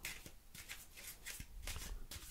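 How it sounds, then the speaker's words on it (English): A deck of playing cards gets an overhand shuffle, several soft, papery slaps and flicks coming in quick bursts up close in a quiet room. "This is called an overhand shuffle."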